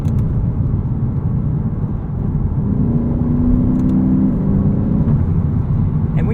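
A 2023 Lexus IS 500 F Sport with a V8 drives in sport mode, a loud, steady low engine drone and road roar heard from inside the cabin, with a slight rise in pitch midway.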